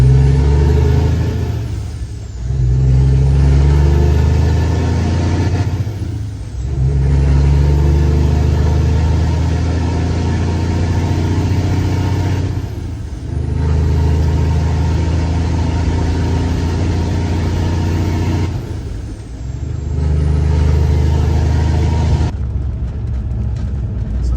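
A heavy truck engine struggling with fuel filter problems revs and pulls hard, rising and falling in long repeated surges with brief dips between, loud and close with no talking.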